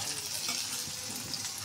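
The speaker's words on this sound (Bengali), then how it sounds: "টমেটোটা একটু আমি নরম করে ভেজে নিই।" Tomatoes and onions frying in a pan give a steady, close, moderately quiet sizzle with faint stirring, no voices.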